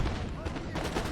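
Musket volleys and artillery fire crackle in a Napoleon: Total War battle, heard as a dense, overlapping burst of gunshots in a brief, busy stretch of game audio.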